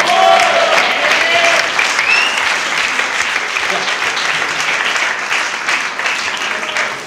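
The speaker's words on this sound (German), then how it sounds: "Ist auch dein Applaus" A live audience at a German stage show breaks into loud, steady applause, dense clapping that holds for the whole stretch and tapers slightly near the end.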